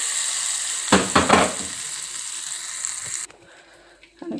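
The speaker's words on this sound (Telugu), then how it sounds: "ఈ తాలింపు అంతా ఈ పచ్చడిలో వేసుకోవాలి" Hot tempering of curry leaves, turmeric and asafoetida poured into tomato roti pachadi, a loud sizzling burst that settles into steady frying hiss and then cuts off near the end.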